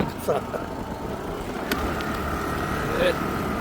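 A car runs along a road, heard as a low, steady rumble of engine and road noise, with voices talking over it.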